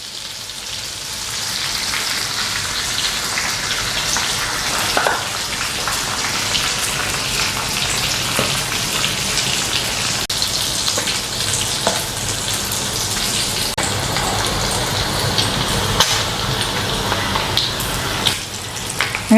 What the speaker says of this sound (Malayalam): അങ്ങനെ നമ്മുടെ കൂന്തൽ ഫ്രൈ നമ്മൾ ഇട്ടല്ലോ എണ്ണയിൽ